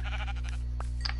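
A sheep mob in Minecraft gives a short bleat or two over a steady low game hum, fairly close and alone without talk.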